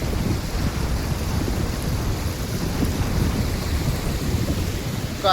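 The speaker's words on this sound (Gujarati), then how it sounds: "કાઢી નાખે એવો વરસાદ પડ્યો આજ" Torrential monsoon rain pours down steadily in a rural Gujarat village, a dense roaring wash of water with a low rumble like distant thunder underneath, loud and unbroken, with no voices.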